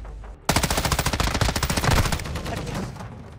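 Sustained automatic gunfire in Call of Duty: Warzone 2.0, a loud rapid burst of evenly spaced shots lasting a few seconds that fades slightly toward the end, with no voices over it.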